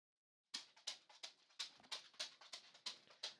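A dog's untrimmed nails clack on a hard floor indoors: a steady run of about ten sharp, close clicks, roughly three per second, starting after a short silence, with no talk.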